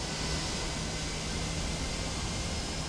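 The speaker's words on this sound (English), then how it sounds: "the startup sounds on this airplane are really quite nice too" A Boeing 757 engine spooling up in Microsoft Flight Simulator 2024, a steady, loud broadband roar with a faint sustained whine, close and constant throughout, no talking.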